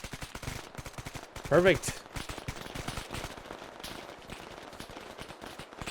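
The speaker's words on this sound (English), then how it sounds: "Everybody open fire." Rapid gunfire from a firefight in the military video game Arma 3, dense bursts of shots crackling continuously through the scene with a louder burst near the middle, under talk from a player.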